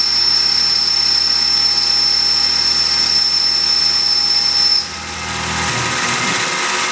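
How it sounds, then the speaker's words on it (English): Tormach PCNC 1100 Duality lathe taking a light first-pass cut at 1000 RPM spindle speed: a loud, steady machine whine with a thin high-pitched tone that cuts off partway through, leaving a lower rumble. "10 thousandths depth of cut with a feed rate of 5 inches per minute, spindle RPM 1000. Light cut on the first pass."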